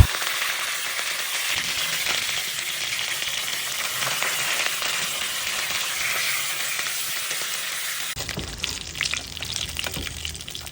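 Frigate tuna (tambakol) fries in hot oil as a steady, dense sizzle that carries on throughout, shifting slightly near the end as the pan is disturbed.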